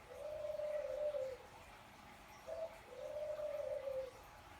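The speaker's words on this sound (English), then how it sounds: "They're called a ring-necked dove" Ring-necked dove cooing indoors, two long smooth coos separated by a short note, faint and close against a quiet room hum with no speech.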